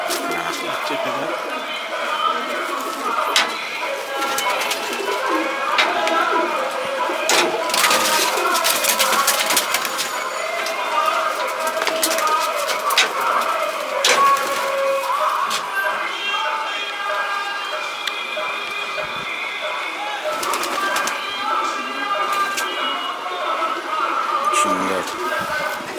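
Pigeons, including young birds and hens kept by a fancier, coo softly and repeatedly nearby while people talk over them throughout.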